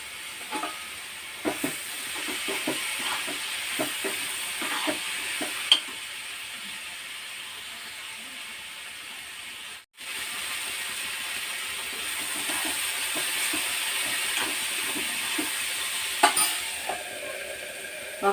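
Fresh curry leaves sizzling in hot oil for raw tomato chutney, a steady low hiss with occasional stirring taps and scrapes, moderately quiet and without speech.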